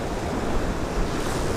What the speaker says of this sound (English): Sometimes the waves, man, the waves.